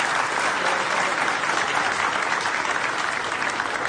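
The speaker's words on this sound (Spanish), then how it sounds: "Pido un aplauso, por favor" A crowd gives a burst of dense, continuous applause, many hands clapping together at a steady, loud level for a few seconds.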